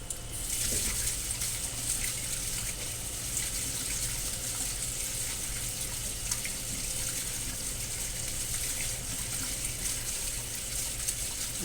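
Water draining through a store's mop sink pipe, a continuous rushing gush with steady flow and no pauses, close and fairly loud, alone without talk.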